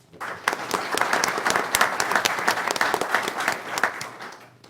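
An audience at a school board meeting breaks into applause, a dense burst of clapping that swells quickly, holds steady, then tapers off near the end.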